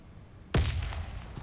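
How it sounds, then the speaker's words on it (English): A thrown grenade in the shooter Warface detonates with a single sudden, loud blast that decays into a rumbling tail over about a second, alone without talk. "I throw a grenade"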